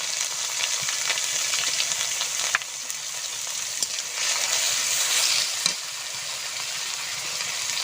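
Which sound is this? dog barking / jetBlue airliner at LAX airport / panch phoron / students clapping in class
panch phoron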